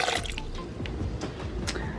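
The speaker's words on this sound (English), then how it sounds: "I'm gonna go ahead and add another half a cup of water" Water pours into a pan for green spaghetti sauce, a close, fairly loud liquid splashing and trickling with a few brief spattering bursts, no speech heard.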